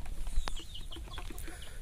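Giant black and clown-face chickens cluck nearby in a yard, a run of short, evenly spaced clucks with one sharper squawk, fairly quiet and without talk.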